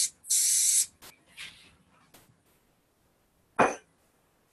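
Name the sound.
spray bottle spraying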